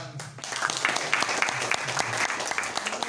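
An audience at a discussion forum on politics and the environment gives a round of applause, a full, even patter of many hands that keeps going throughout, fairly close.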